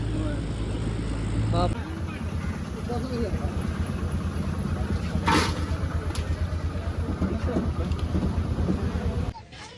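A car driving along the road on a pilgrimage trip from Kolhapur to Akkalkot and Gangapur, a steady loud engine and road rumble running throughout before it cuts off abruptly at the end.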